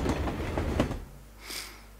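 Train in The Amazing Spider-Man 2 video game, a rolling rail rumble with clickety-clack texture over the first second, fading to a quiet hum, then a brief airy hiss swelling near the end.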